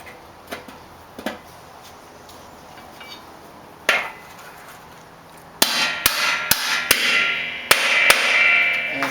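Metal-on-metal hammer blows drive a spindle bearing into an MTD mower spindle housing, a few scattered taps first, then a quicker run of sharp strikes whose ring brightens and shifts in pitch as the bearing seats fully.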